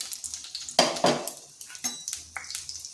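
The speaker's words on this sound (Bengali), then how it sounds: "বড়িগুলো প্রথমে হাই আঁচে ভেজে নেব।" Bori lentil dumplings frying in oil in a kadai over high heat, soft sizzling broken by several clinks and scrapes of a spatula stirring against the pan.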